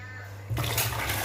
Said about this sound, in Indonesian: Ini saat kita buka keran wastafelnya